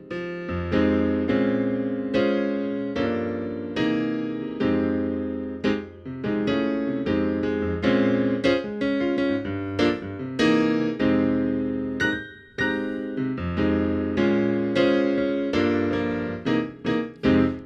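Solo piano with no bass or drums, a steady stream of chords and melody played close and clear, with short pauses between phrases and no talking.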